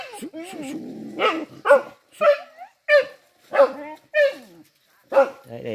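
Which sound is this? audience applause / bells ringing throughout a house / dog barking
dog barking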